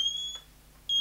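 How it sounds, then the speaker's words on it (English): Two short, high-pitched electronic beeps from an underwater camera housing's leak alarm, one at the start and one at the end, with quiet gaps between them and nothing else around. "there's this little beeping sound"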